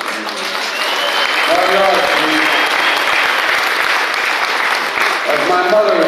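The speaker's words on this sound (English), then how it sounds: "He deserves a real, real round of applause." Sustained, loud crowd applause fills the whole stretch at a political rally, a dense steady wash of clapping with cheering voices rising over it near the end.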